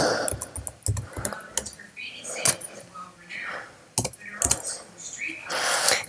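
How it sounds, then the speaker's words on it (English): Keys on a computer keyboard clack in quick, irregular bursts, close and fairly loud, with faint talking in between. "So go to the Google and type in YouTube."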